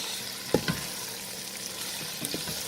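Ackee frying with scallion and garlic being stirred in, a continuous close sizzle and crackle with a few soft utensil knocks and scrapes against the pan.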